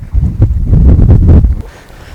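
Strong, cold wind on a lake during walleye fishing buffets the microphone in low, rumbling gusts for a moment before easing off.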